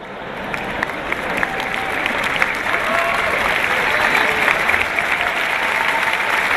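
An audience at a seminar breaks into loud, sustained applause. The clapping is dense and steady, building slightly and then holding throughout.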